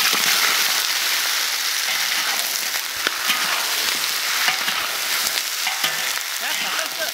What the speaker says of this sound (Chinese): 锅里加油，开始炒糖色